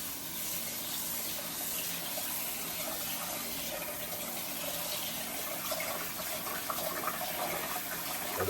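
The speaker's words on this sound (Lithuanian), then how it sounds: "Nuplausim po šaltą vandenį kelis sykius." Cold tap water runs steadily over food being rinsed in a kitchen sink, making a continuous, fairly loud broadband splashing hiss with no voices.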